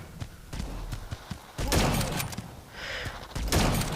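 Gunfire in a shooter video game, with sharp repeated shots and thuddy impacts coming in irregular bursts, fairly close and loud.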